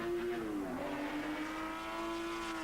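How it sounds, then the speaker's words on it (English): A V12 Jaguar XJ-S race car screams around the Donington circuit during an endurance race, its engine holding a steady, high sustained note at a distance, with no speech. "V12 Jaguar on song and in the lead"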